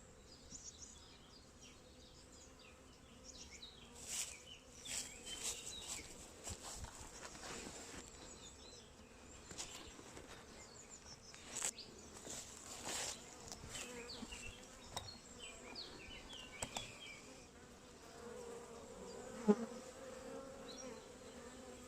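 A soft, steady buzz of many honey bees fills the space around a hive, faint and continuous, with occasional light knocks and rustles.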